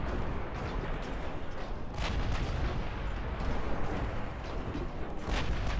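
Naval 5 and 6 inch guns firing in the Ultimate Admiral Dreadnoughts battleship game, a dense, loud, continuous roar of overlapping booming shots with sharper blasts standing out, no talk.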